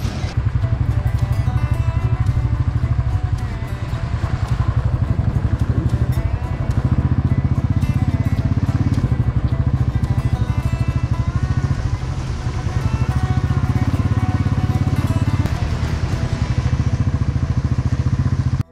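A heavily loaded touring motorcycle rides National Highway 3 between Manali and Bilaspur, its engine droning loud and steady throughout with constant rattling of luggage and road clatter, no talking.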